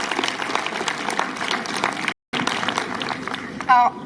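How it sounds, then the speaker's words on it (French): Applause from a crowd at a student climate strike gathering in Brive, continuous clapping with a brief dropout midway and a short tonal blip near the end. "on peut encore l'applaudir hein"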